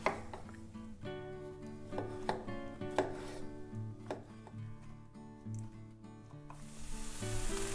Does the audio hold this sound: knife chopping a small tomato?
yes